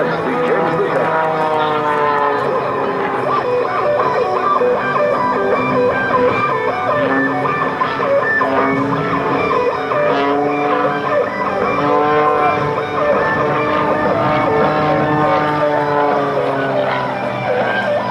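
The Pitts S2C aerobatic biplane flown by Ed Hamill at the 2005 Rhode Island airshow drones with a loud, continuous engine note that rises and falls in pitch, with no other sound over it.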